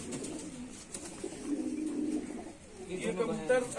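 Pigeons of a kept, bred flock coo softly in low repeated warbles close by, with a person talking over them.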